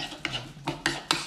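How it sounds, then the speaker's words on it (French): A utensil stirs an Italian pasta salad seasoned with pepper, producing four or five brisk, rhythmic scraping strokes against the bowl, close and fairly quiet, with no speech. "Voilà, on mélange."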